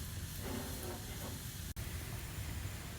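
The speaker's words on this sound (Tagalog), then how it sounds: "Ayan, kumukulo na siya." A pot of water at a rolling boil gives a steady, loud hissing roar, constant and close, with a brief dropout partway through.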